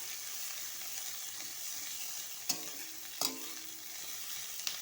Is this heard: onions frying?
yes